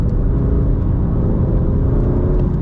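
A BMW M2 Competition engine drones steadily with a deep low rumble, driving at constant speed on a wet road with a smooth, continuous roar.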